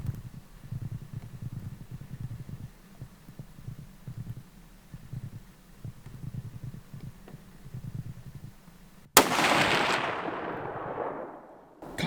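A single loud rifle shot cracks out at a mule deer buck on a mountain hunt, following a stretch of low throbbing rumble, then echoes and fades.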